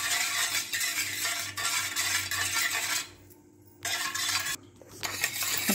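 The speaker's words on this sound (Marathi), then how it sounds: "ते दही फेटून घ्यायचे व्यवस्थित" Curd is whisked with oil in a bowl, a spoon or whisk scraping and clicking rapidly against the sides in close, busy bursts, with two brief pauses between rounds of mixing.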